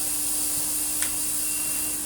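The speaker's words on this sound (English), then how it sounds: "it's spinning a bigger motor slower, so it's still creating vast amounts of airflow" A Karcher T9/1Bp vacuum cleaner's bigger, slower-spinning motor runs steadily nearby, a constant whirring drone of airflow with one faint click midway.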